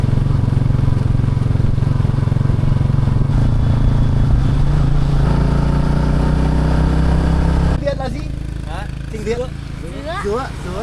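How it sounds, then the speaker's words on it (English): A motorbike engine drones steadily and close on a countryside road in Vietnam, then eases off as the ride continues, with traffic and wind noise in the background. "Lovely day for a motorbike trip through the Vietnamese countryside."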